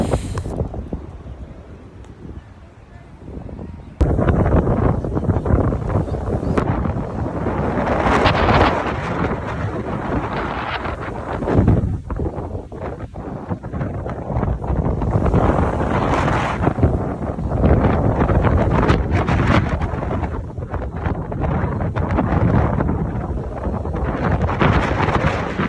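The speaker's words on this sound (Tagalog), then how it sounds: "malakas ang hangin" Strong wind roars and buffets the microphone continuously, loud and gusty throughout, with a quieter stretch at the start, at a cherry blossom park in Gunma, Japan.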